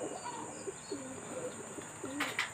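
Pigeons coo in soft, repeated low calls during a first SDR homing pigeon training session, with a few scattered chirps and a brief rustle of wings near the end, all against a steady outdoor background hum.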